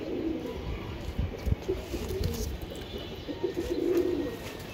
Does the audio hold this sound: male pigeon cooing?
yes